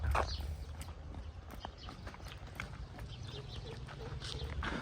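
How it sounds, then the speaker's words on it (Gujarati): Hooves clop in an irregular walking rhythm on hard ground, fairly close, with low rumbling background noise. "ઘોડાને ટેવ પડી ગઈ મિત્રો મારી પાછળ પાછળ આવવાની છે."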